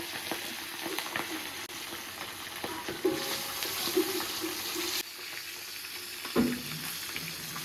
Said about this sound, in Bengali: এবার মাছগুলো এক এক করে ভেজে নেব।